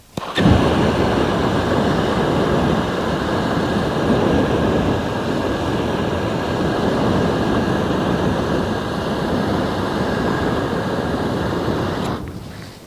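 XM42 personal flamethrower blasting a continuous stream of fire, a loud, steady roaring rush that holds unbroken for about twelve seconds before cutting off abruptly.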